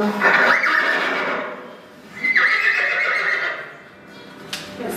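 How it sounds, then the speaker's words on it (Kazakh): A horse whinnies twice, loud and close, each neigh a long quavering call, with a short sharp click near the end. "Жылқы."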